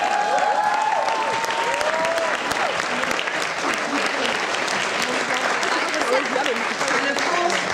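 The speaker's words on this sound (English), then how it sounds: "So, round of applause." A large audience at a youth public-speaking competition in London gives a loud, sustained round of applause, dense and steady for the whole stretch, with a faint voice or whistle-like tone near the start.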